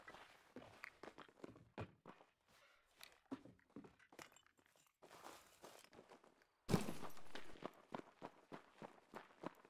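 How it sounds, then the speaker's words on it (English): Footsteps in United 1944 come as faint irregular thuds and scuffs behind the player, with a louder burst of noise partway through. "I heard footsteps behind me."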